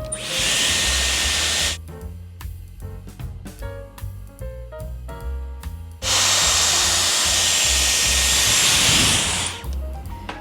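A Dyson Airwrap hair styler blows hot air while curling hair, a loud close steady whooshing roar that runs, cuts off for a few seconds of clicking and handling, then starts again and stops near the end.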